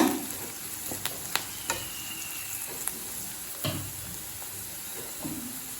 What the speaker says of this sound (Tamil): எல்லா காயும் சேர்த்துட்டு இப்போ 1 நிமிஷம் வரைக்கும் நல்லா வதக்கியாச்சுங்க.